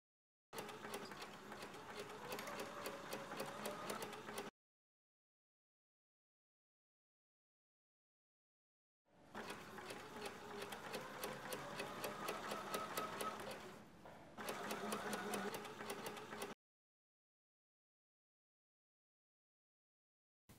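A sewing machine stitching set-in coat sleeves, running in steady rapid bursts of several seconds separated by silent pauses, close and clear with no talk.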